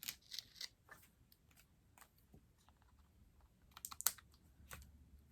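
A paper card for a Stampin' Up! double-door fun fold being trimmed along its bottom edge, heard as scattered soft snips and rustles, quiet and close, with a brief sharper cut near the end.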